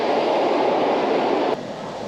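A steady, loud rumble of a Hikari Shinkansen train departing Tokyo Station, with broadband noise that drops slightly in level near the end. No voices.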